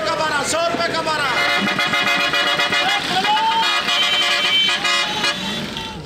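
Busy street din with repeated bus horns honking over engine rumble, loud and continuous, while people shout and talk nearby.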